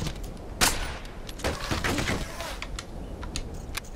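Bursts of gunfire in the WWII shooter game Brothers in Arms: Hell's Highway, rapid sharp cracks scattered irregularly across a busy battle scene at moderate loudness.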